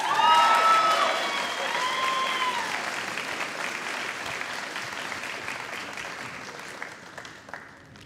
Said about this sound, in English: Another huge round of applause for Class Hume and Mr. Bennett.